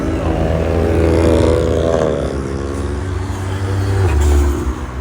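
A Proton Wira Turbo car engine on a street at night, loud and close, its deep rumble rising and falling as the revs climb and ease off, with a strong low drone throughout.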